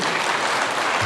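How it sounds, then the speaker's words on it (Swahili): Dense, steady applause from a church congregation at AIPCA Town Cathedral in Thika, Kiambu County, welcoming Senate majority leader Aaron Cheruiyot. It is loud and continuous, filling the whole short stretch with no break. "Mpigeni makofi."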